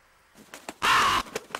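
A harsh bird cry in the action game Otogi 2 rings out once, loud and close, after a few soft short taps.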